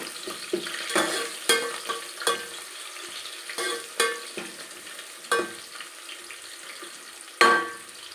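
Onions frying and being stirred in a pan for North Karnataka style mutton chaakana, with a steady sizzle broken by repeated scraping clatters of the spoon against the pan, close and moderately loud, no voices.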